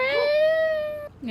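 A small dog gives one drawn-out, high, wavering howl, close and clear, closely resembling a cat's meow, ending abruptly just before a voice speaks.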